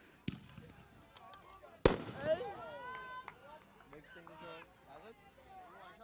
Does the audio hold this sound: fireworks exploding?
yes